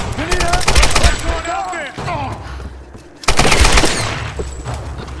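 Loud bursts of gunfire in the Tomb Raider video game, rapid shots clustered in two heavy volleys separated by a quieter stretch, with in-game voices and sounds mixed underneath.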